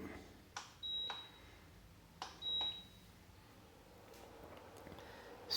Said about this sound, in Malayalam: അതിനുശേഷം സ്റ്റൗ ഓൺ ചെയ്തു.